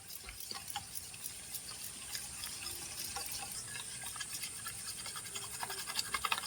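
Egg and milk mixture for pudding being whisked briskly in a bowl, a continuous wet, sloshing clatter with fine rapid ticks, fairly quiet and steady throughout, no voices.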